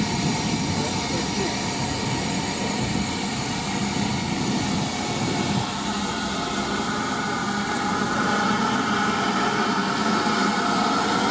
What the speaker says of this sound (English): Nice engine, isn't it?